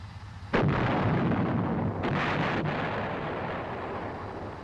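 Main gun of an M551 Sheridan armored reconnaissance assault vehicle firing, one sudden heavy boom followed by a long rolling rumble, then a second fainter blast echoing into a fading outdoor roar.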